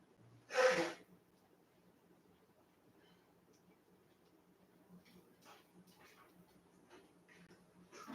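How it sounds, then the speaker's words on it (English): A single short, forceful nasal blow near the start, followed by quiet shuffling and faint rustling. "I really need to blow my nose."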